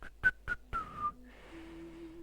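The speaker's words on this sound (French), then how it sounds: "Pardon pour ce sifflement" A few short whistled notes in quick succession, then a longer sustained tone, close and clear with no talking.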